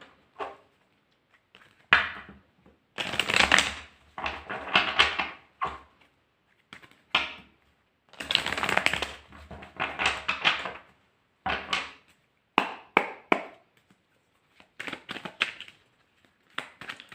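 Tarot cards are shuffled and cut in scattered bursts of close riffling, tapping and slapping, separated by short quiet gaps.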